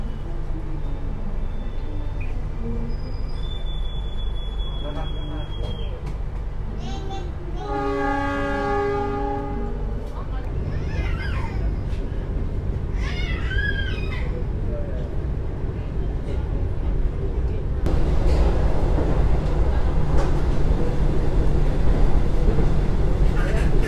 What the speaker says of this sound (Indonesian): kereta api Argo Cirebon telah tiba di stasiun Bekasi.